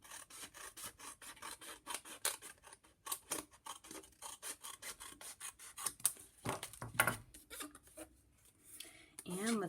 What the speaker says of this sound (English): let's cut another strip of our colored paper